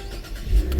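A Cadillac CT4 with a twin-turbo six-cylinder engine revs briefly, a low, throaty engine surge swelling over under a second, close and fairly loud with no talking.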